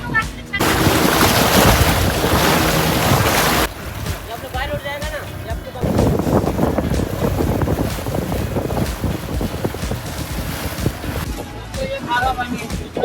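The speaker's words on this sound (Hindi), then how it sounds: "मापुसा से जा रहे हैं ये बोट में, अब हम जाएंगे समुंदर में" A boat heads out to sea from Mapusa in Goa with a loud, constant rush of engine, wind and water. Heavy wind buffets the microphone, and voices talk over it at times.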